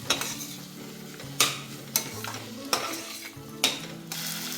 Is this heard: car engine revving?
no